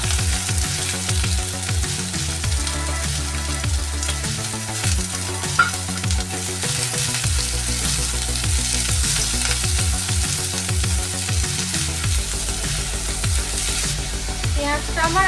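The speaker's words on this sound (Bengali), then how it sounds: "পেঁয়াজটা আমার একটু ভাজা ভাজা হবে।" Chopped onions fry in hot oil in a pan, giving a loud, continuous sizzle and crackle with stirring scrapes mixed in, close up and unbroken by speech.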